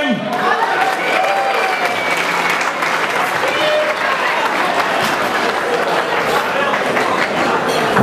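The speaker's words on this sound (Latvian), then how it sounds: "Vēlreiz aplaus visiem čempioniem!" Sustained applause for the motocross champions at a Latvian MX awards ceremony, a dense crowd clapping steadily at close range for the whole stretch, with some voices rising through it.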